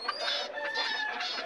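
Several chickens cluck and squawk close by in a busy, overlapping chorus, with no talking.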